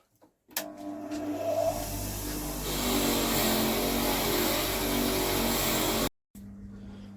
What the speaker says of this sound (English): 6-inch grinder with a wire wheel.